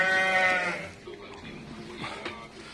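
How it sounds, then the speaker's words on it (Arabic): Several Rahmani ewes bleat at a feed trough of corn, bran and clover hay, a loud harmonic bleat at first, then quieter bleats and rustling around the pen. "ال6 نعجات اترصوا على العلف قدامكم."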